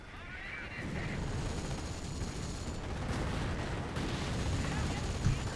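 Battle noise from Company of Heroes set in the Normandy invasion, with a tank and machine gun firing in a dense, steady roar of distant gunfire and rumbling explosions under someone talking.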